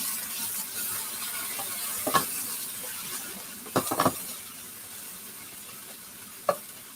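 Onion frying in a stir-fry pan for a beef, black bean and cashew dish, a steady soft sizzle with a few sharp crackles and stirring scrapes, fairly close and quiet.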